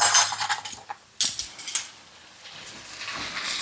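Serving spoons are grabbed from a kitchen drawer, giving a few scattered metallic clinks and rattles up close, with a quiet pause midway and soft handling noise afterward.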